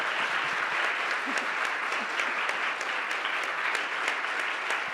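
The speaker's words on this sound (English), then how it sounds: "Please give her a big round of applause." Audience at a literature festival session applauding an author, a sustained even roar of many hands clapping throughout, fairly loud and unbroken.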